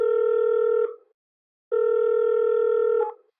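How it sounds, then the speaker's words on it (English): A telephone rings twice after the callback button is pressed, each steady electronic ring tone lasting under a second and separated by a short silence, clear and close. "he punched the callback button"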